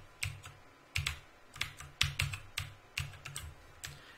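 Keys on a computer keyboard are tapped in short clustered bursts, close and crisp with brief pauses between groups, alone in a quiet room.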